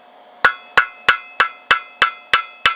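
A blacksmith's hammer strikes hot metal on an anvil, drawing out a long taper toward a point: eight sharp, ringing blows in a steady, even rhythm, close and loud, with no voices.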